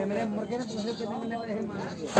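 A goat bleats in a few wavering cries close by, with people talking over it.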